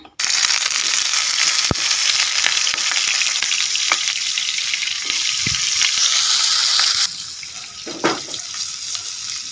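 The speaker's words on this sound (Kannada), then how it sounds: "ಈಗ ಮೊದಲಿಗೆ ನುಂಗೆಲ್ ನಂಗನ್ನ ನಾವು ಫ್ರೈ ಮಾಡ್ಕೊಳ್ಳೋಣ ಅದಕ್ಕೋಸ್ಕರ ಸ್ವಲ್ಪ ತೆಂಗಿನೆಣ್ಣೆನ ಹಾಕ್ತಾ ಇದ್ದೀನಿ" Dry fish sizzling in coconut oil in a pan, a loud continuous hiss of frying with a few clicks and scrapes of stirring, easing slightly near the end.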